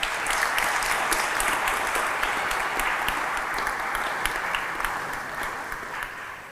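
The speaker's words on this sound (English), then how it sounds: "Let's give all those coaches a big round of applause." An audience at an annual Rotary sports awards night claps in steady, dense applause for the coaches, fading slightly toward the end.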